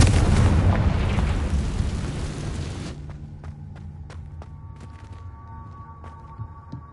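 Confringo spell explosion in the video game Hogwarts Legacy, a loud, deep boom that rumbles and fades over several seconds, followed by sharp clicks and a low hum.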